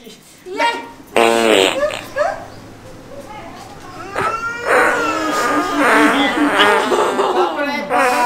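Comic fart noises rip out in several bursts during a Maithili comedy skit, loud and close and interleaved with excited voices talking.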